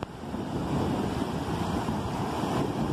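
Ocean surf at high tide gives a continuous loud rushing wash of breaking waves, mixed with wind buffeting the microphone, with no talking.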